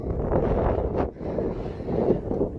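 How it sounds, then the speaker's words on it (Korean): Strong wind and fog blasting across the Sobaeksan mountain ridge during a heavy rainstorm, a loud buffeting roar hitting the microphone in continuous gusts with a brief lull midway. "안개바람이 아주 사정없이 몰아치네."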